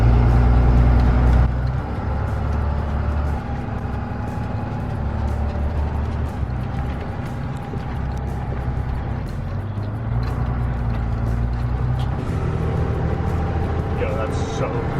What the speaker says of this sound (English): now we're gonna drive